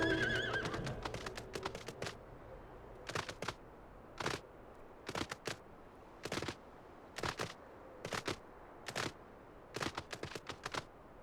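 A horse mount in Final Fantasy XIV whinnies at the start, then trots in short bursts of clip-clop hoofbeats, spaced evenly and loud against a quiet game backdrop with no talk.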